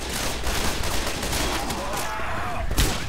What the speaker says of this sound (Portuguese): Cara, que eles estão atirando em mim, eu vou atirar nele de volta.